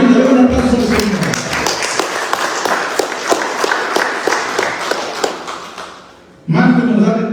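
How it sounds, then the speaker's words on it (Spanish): A congregation at a Spanish-language church sermon applauds, a burst of sharp claps that fades and stops, with a voice speaking before and after. "Un aplauso al Señor."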